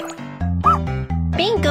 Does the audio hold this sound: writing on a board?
no